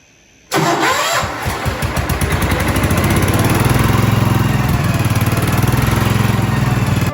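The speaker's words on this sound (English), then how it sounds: "We got the tractor running pretty good." After a moment of quiet, a Ford LGT lawn tractor engine cranks and catches, then settles into a loud, steady running rumble close by.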